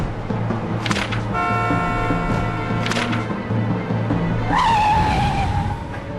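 A car's tires squeal in long, loud skidding screeches over a running engine, with a higher sliding squeal near the end as it comes to a stop.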